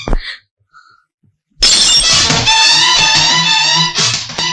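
A glass object smashes during a dramatic Tamil film scene, a sharp shattering crash at the very start, then near-silence before a loud, sustained tonal swell fills the rest.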